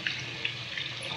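Water runs steadily out of an HVAC unit with a plugged drain, a continuous close splashing and trickling stream over the whole short moment, with no voices.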